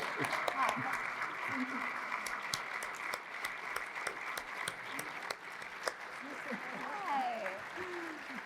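Final round of applause from the audience at a CEO roundtable during a 50th anniversary summit, steady crowd clapping throughout with voices and cheers mixed in.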